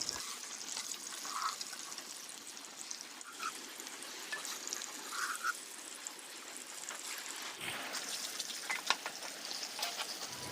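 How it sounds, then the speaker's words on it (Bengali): Eggs frying in hot soybean oil in a pan, a steady, soft crackling sizzle with small pops running throughout, no voices. "তেলটা গরম হওয়ার পর এর মধ্যে আমি দিয়ে দিব একে একে ডিমগুলো।"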